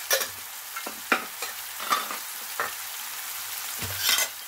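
Spices with turmeric and cumin powder being sautéed in a pan, with repeated scraping stirs over a crackling sizzle at close range and no voices.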